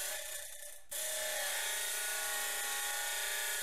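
A knife blade being ground down to its profile line, a steady harsh abrasive rasp that kicks in loudly after a brief quieter rubbing and continues unbroken, close up.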